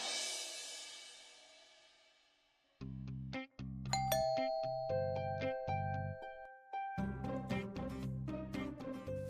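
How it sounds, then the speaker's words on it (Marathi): A household doorbell plays a chiming electronic ding-dong melody, clear and fairly loud, after a fading background sound, with repeated tones over several seconds in a home setting. "बेल वाजती अगं"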